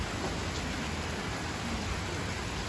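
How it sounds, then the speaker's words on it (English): Rain falls steadily onto a market overhang roof, a dense even hiss of drops that holds at the same loudness throughout, with no voices. "I'm under the overhang today, so I'm not worried about the rain."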